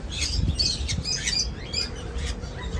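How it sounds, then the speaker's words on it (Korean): Small birds for sale at a pet shop in a traditional street market chirp and tweet in quick, bright bursts, several calls overlapping close by with faint market background beneath. "어 새들 있다 요 새들"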